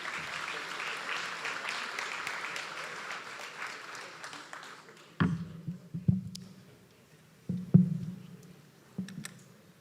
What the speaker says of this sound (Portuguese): pedia o vosso aplauso para darmos as boas-vindas.